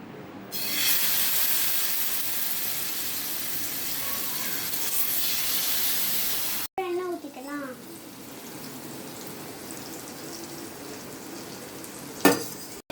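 Masala-coated fish for a Thanjavur fish fry sizzles steadily in hot oil, loud and continuous at first, then quieter with occasional stirring clatter and a sharp clink near the end.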